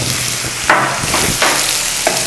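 Plantain podi curry stirred in a nonstick pan, broadband scraping strokes sweeping through three times over a steady low sizzle, close and fairly loud with no talk.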